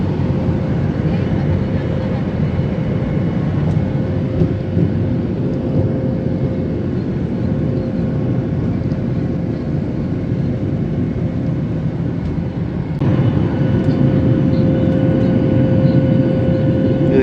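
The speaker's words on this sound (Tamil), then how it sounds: "ஃப்ளைட் பறக்க போகுது" Steady loud aircraft cabin roar on a Colombo to Seychelles flight, continuous engine drone with a constant tone, rising slightly louder near the end as the plane climbs after takeoff.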